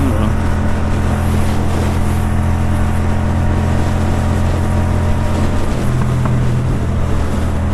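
A motorcycle cruiser's engine runs steadily at close range, a loud, constant low rumble with droning harmonics that holds unchanged throughout.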